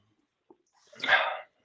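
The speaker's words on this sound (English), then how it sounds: "I had my three younger dogs in the same little kennel area together, and I put their bark collars on so that they wouldn't, be noisy." A single muffled dog bark or yelp sounds from younger dogs kept together in a small kennel area and wearing bark collars. It is brief and moderately distant against an otherwise quiet background.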